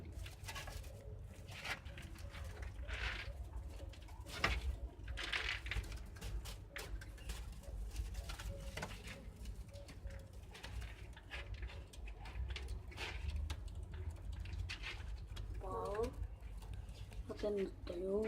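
Pet pigeons or doves coo in soft repeated calls at low volume, over a steady background hum with small patters.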